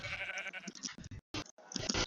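Sheep in a Minecraft survival world bleat in quick, overlapping cries close by, amid busy game sounds.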